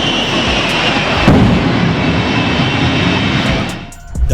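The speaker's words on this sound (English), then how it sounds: "The fastest jet-powered truck in the world" Shockwave jet-powered truck with three Pratt & Whitney jet engines, a loud sustained roaring jet blast with a sharp crack near the start, fading briefly before surging again.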